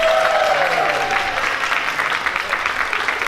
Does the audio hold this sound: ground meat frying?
no